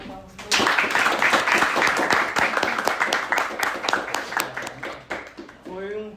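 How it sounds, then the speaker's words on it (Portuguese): An audience in a room bursts into sustained applause, a dense, fairly close clatter of many hands clapping for several seconds before thinning out, with a voice briefly audible at the end. "Gostaria que quem está aqui na sala, por favor, uma salva de palmas."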